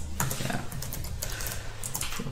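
Computer keyboard keys clatter in quick irregular bursts of close, crisp clicks, entering commands, over a dense background hiss with a low rumble, no talking.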